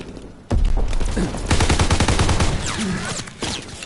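Gunfire in Call of Duty WWII beta on PS4: loud, rapid automatic bursts and overlapping shots crackle continuously after a short quiet start, with a brief dip near the end.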